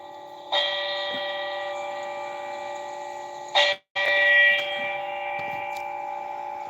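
A bell tolls in long sustained rings, each strike holding a steady ringing tone that slowly decays, with a sharp break partway through before the next strike rings out, loud and clear with no voices.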